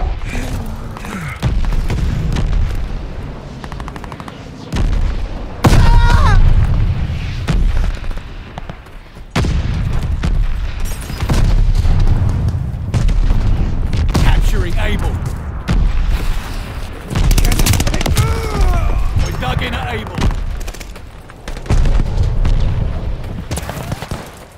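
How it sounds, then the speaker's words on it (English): Artillery shells exploding in Call of Duty: Vanguard Domination, a chaotic run of heavy booms and sharp blasts in repeated bursts, loud and close, with gunfire and voices scattered through the din. "Shells falling."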